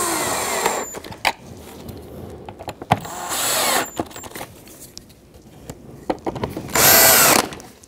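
A power driver with a 25 Torx bit runs screws into the airbox of a 2010-16 Buick Lacrosse, several short whirring bursts separated by clicks and handling noise, close and fairly loud.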